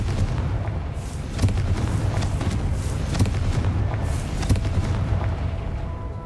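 A Confringo fire spell detonates in the Hogwarts Legacy video game, with repeated booming blasts over a dense rumbling game soundscape, loud and close throughout.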